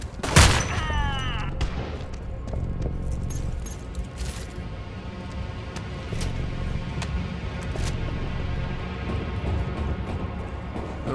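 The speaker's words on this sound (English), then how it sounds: "We're getting shot at by a sniper." Gunfire in the shooter game Homefront: The Revolution: a sharp loud shot near the start with a ringing tail, followed by scattered lighter cracks and clicks over a steady background hum.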